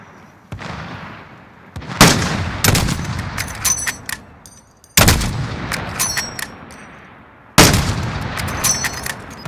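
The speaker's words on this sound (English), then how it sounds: "Alright, shoot him." Three sharp bursts of video game gunfire in a battle-royale match, each a loud crack followed by a ringing tail and scattered follow-up shots, separated by short quiet gaps.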